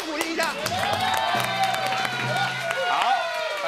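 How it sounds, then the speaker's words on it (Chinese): Studio audience clapping and cheering on a comedy variety show, busy applause under someone talking, with music-like tones running through. "掌声鼓励一下"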